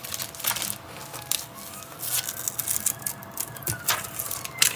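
A distant emergency siren wails faintly, its rising and falling tone carried over steady background noise with scattered clicks and rustles.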